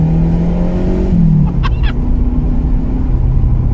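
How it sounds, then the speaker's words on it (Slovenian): A turbocharged car driving on a race track that is drying out, its engine a loud, steady drone that dips in pitch at a gear change and then pulls on, heard from inside the car. "Šli se bomo pelat, pa spoznat avto."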